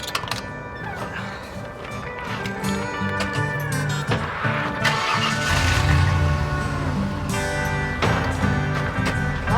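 Truck engine in a movie cranking and catching, then settling into a loud rumbling idle under a music score, close and steady.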